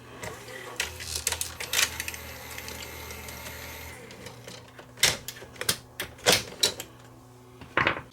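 A Betamax cassette elevator worked down and up by hand, sticking as it moves, gives a run of small plastic clicks and rattles followed by several sharp separate clacks, close and fairly quiet.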